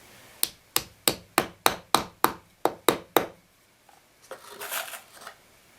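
A hammer drives a decorative upholstery tack set with a spacing tool, giving about ten sharp, evenly spaced taps close up, followed by a brief pause and softer handling rustle.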